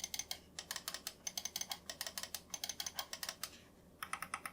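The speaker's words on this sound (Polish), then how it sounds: "Na początek przyciski boczne." Side buttons on a Redragon Ebony Ultra gaming mouse clicked one after another in a quick, even series of sharp, close, dry clicks, alone with no voices.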